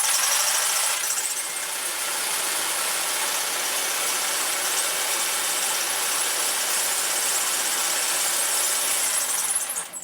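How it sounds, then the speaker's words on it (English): Jigsaw running continuously to shake a shrimp acclimation bag, a fast, buzzing mechanical whir held at an even level for the whole stretch with no talking. "So instead of shaking it up and down like this, I use my jigsaw."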